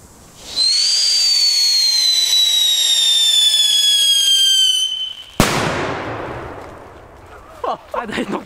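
A whistling firework fountain lets out a loud, shrill whistle that slowly falls in pitch for several seconds, then a sharp bang and crackling hiss, with faint voices toward the end.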